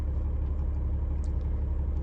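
A car driving along, heard from inside as a low steady engine rumble, fairly quiet and continuous, with no voices.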